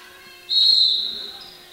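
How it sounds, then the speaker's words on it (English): A referee's whistle at a women's junior varsity basketball game gives one sharp, loud blast of about a second that tails off, heard alone against a quiet background. "Underneath, the whistle stops the action."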